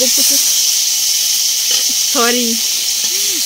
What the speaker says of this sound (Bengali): জল খাবারে একটু বেগুন ভাজা করছি